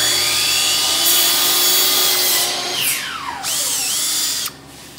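A power drill reaming a hole in a piece of cut rubber conveyor belt, giving loud whining bursts that rise and fall in pitch as the motor speeds up and slows down, then cut off abruptly near the end.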